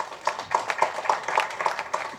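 Audience clapping at a wedding press meet for Umapathy Ramaiah, welcoming Arjun and Thambi Ramaiah; steady, moderately close applause with rhythmic claps lasting a couple of seconds, no talk over it.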